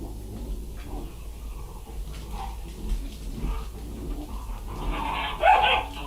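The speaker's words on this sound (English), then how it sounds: "the puppies are going to make noise" Puppies at a service dog project bark, yip and growl in a low, steady clamor, with a louder burst of yelping near the end.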